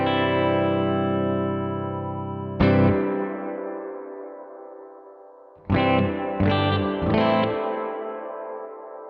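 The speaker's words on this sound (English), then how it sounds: "This is the normal reverb mode here." A guitar played through a reverb pedal in normal mode with a very long decay: one sustained chord fades, then a sharp strum rings out slowly, followed by three quick struck chords that trail away in a long wash.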